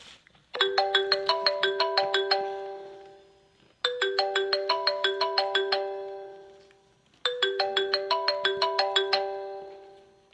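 A mobile phone ringtone plays during a call at a girls' school stage performance, three identical bursts of a bright rising chime melody, clear and fairly close, each separated by a short pause.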